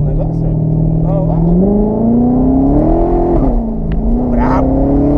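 Corvette engine revving as the driver accelerates outside a nightclub, a loud close growl whose pitch climbs steadily and then drops back, with people talking over it.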